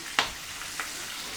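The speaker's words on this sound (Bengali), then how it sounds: "ফুটতেছে মাছ, অল্প একটু তেল দিছিলাম, তেল বের হয়েছে ভালোই।" Fish frying in a small amount of oil in a home kitchen: a soft, steady sizzle broken by two sharp spitting pops.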